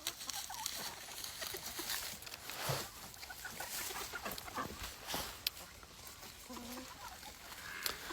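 A rooster up in a tree gives faint, scattered clucks amid steady outdoor hiss and rustling, with a few short calls standing out near the end.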